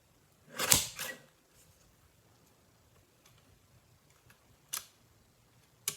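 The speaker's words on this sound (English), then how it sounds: "And then we'll trim this off." Paper is trimmed for a stamped leaf card. Two quick sharp cutting snips sound close together, followed by a faint lone snip a few seconds later in an otherwise quiet room.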